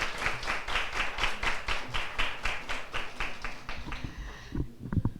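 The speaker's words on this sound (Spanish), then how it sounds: "un aplauso para ellas porque me parece que han hecho un excelente trabajo" Audience applauds presenters at a public health school event at the University of Costa Rica, a steady burst of clapping from a crowd that thins out toward the end into a few scattered claps.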